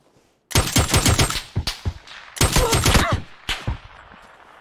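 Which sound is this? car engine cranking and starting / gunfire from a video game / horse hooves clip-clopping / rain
gunfire from a video game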